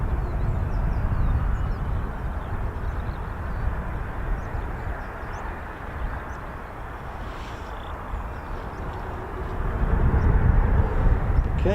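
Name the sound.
Spanish Air Force EF-18 Hornet jets taxiing at RAF Marham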